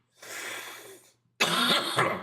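Two harsh coughs close to the microphone, the second louder and longer, separated by a brief pause.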